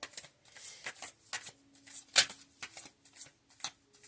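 Tarot cards being shuffled by hand for a love reading, in a series of quick riffling, rustling bursts that stop and restart, close and fairly soft, with no talking.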